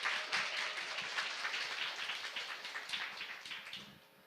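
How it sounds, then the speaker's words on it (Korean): Applause from the audience at a Korean film talk event comes as a dense patter of many hands clapping, fairly faint and steady and fading slightly toward the end. "여러분 박수 부탁드립니다."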